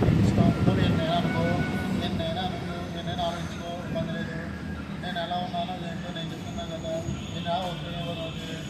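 A train rumbles steadily nearby, its wheels giving off thin squealing tones that rise and fall over the continuous clatter of rail noise, as another train moves on a parallel track.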